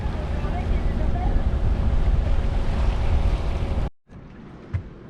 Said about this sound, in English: We're sailing along really slowly